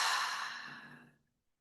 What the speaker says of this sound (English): Open mouth exhale.